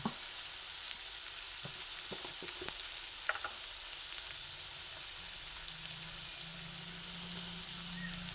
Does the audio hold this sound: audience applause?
no